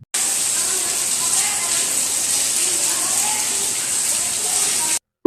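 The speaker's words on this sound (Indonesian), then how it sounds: "Jadi masuk hujan nih kayak gini nih" Heavy rain pours from the rooftop into a rented boarding-house room, a dense, steady hiss of rushing and splashing water that holds loud and constant before cutting off abruptly.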